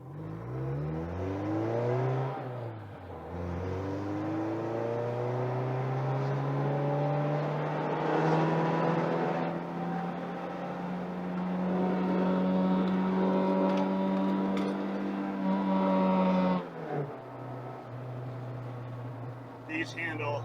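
A 1992-95 Honda EJ1 on newly fitted coilovers drives off: the engine drones and rises in pitch through several gears with brief dips at shifts, heard close from inside the car, then settles back near the end.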